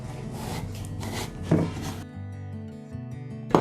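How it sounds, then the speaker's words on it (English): A knife cuts through a raw papaya with scraping, rubbing strokes, a sharper chop landing midway and another near the end, close and fairly quiet. "Let's cut the top part and the down part, and let's slice it in between."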